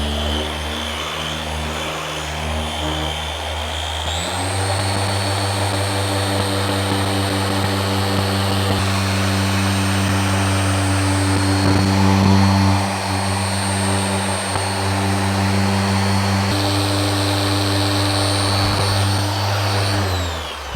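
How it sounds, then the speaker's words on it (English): A rotary car polisher spins a 3-inch polishing pad during paint correction, a steady loud whine that jumps up in speed after a few seconds and holds there without a break, close and alone. "You want your pad to be spinning."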